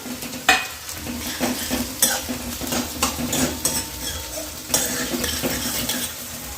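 Spoon stirring chopped tomato into sizzling Maggi masala in a pan, with repeated clinks and scrapes of utensil against metal over a continuous frying hiss.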